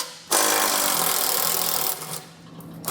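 A power tool whirs steadily while removing 17 mm head bolts from the underbody panel of a 2015 Jeep Wrangler Unlimited, a loud close buzz that starts abruptly and briefly dips near the end.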